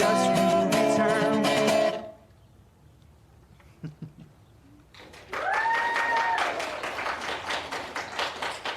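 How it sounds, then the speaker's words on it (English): Applause from a small audience arrives in two bursts of dense clapping, the first loud and close alongside music, the second following a quiet stretch with scattered taps and fading into lighter claps. "How about another at-home round of applause for Will?"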